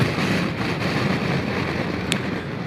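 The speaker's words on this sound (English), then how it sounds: "I'm getting buffeted in the head. The wind's hitting my shoulders a little bit" Wind buffets the helmet of a rider on a 2021 BMW R1250RT LE motorcycle, producing a constant loud roaring rush with a brief sharp tick partway through, and no voice.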